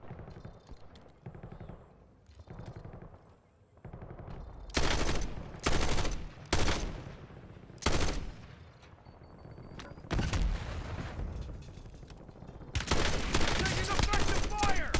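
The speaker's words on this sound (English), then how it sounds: "Taking effective fire!" Gunfire in Call of Duty: Black Ops 6 multiplayer: loud bursts of rapid shots and heavy blasts in several clusters, with quieter stretches between them and a voice speaking among the shooting.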